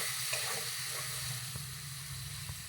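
Cumin seeds and ground cumin sizzling in a very hot pan with a little water added, a steady soft hiss with faint stirring scrapes and small ticks, no one talking.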